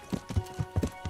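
Horse hooves clip-clop at a walking pace in the medieval video game Kingdom Come Deliverance, a steady run of soft, close hoof thuds.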